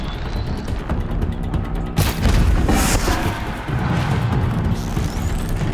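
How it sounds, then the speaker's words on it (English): In the video game Horizon Zero Dawn, a deep booming explosion bursts loud and close within continuous game noise and low rumble, then tails off into a sustained roar. The rumble persists until the end. "Okay, an explosion."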